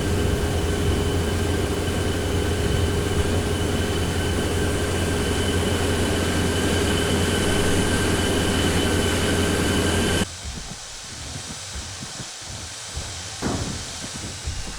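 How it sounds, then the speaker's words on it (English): A crashed helicopter's auxiliary power unit keeps running in a video game, a steady loud whine and rumble with tonal hum that cuts to a quieter background after ten seconds. "you can hear the APU is still ticking over"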